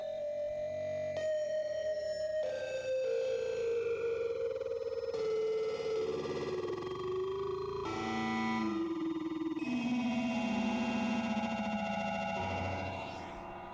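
A catchy song with a clear melody plays from a phone resting on a table, steady and fairly loud with sustained tonal lines and no talking throughout.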